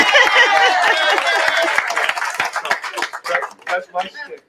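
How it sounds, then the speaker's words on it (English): An audience claps and applauds, loud and dense at first, then thins into scattered claps as a voice begins speaking over the tail end. "let's give a big round of applause to David"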